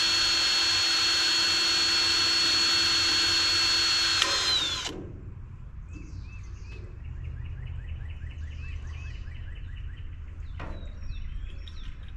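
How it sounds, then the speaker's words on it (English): A power drill drives screws into the floor boards of a trailer with a loud, steady whine that cuts off partway through, leaving quieter background noise and chirping birds outdoors. "I will get the rest of them drilled and we'll go from there."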